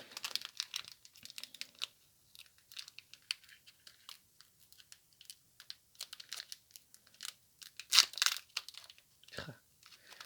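Pokémon card booster packs being torn open by hand, giving irregular crinkling and ripping of foil wrappers in bursts, close and fairly quiet, with a louder tear near the end.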